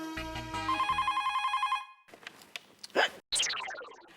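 A telephone rings in a clear repeating electronic pattern for nearly two seconds, followed by clattering handling sounds and a short burst of noise as the receiver is picked up; no one speaks.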